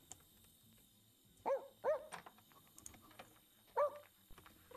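Dogs in The Sims 2 video game give three short, soft barks or yips spaced apart over quiet game background, with no talking.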